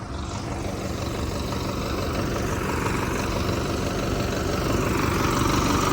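Tractor engine idling, a continuous low rumbling drone with steady rhythmic chugging, close and fairly loud, rising slightly toward the end with no voices over it.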